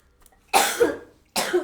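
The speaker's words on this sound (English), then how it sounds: "But first I need to cough." Two harsh coughs from one person, close to the microphone, the first longer and rougher, the second short, with near silence before and between.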